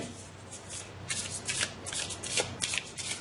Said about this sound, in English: I'm going to be a little more careful with my shuffling.